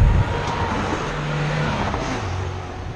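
Cars pass along a roadside, one engine swelling loud and near as it goes by, with a steady wash of tyre and traffic noise throughout.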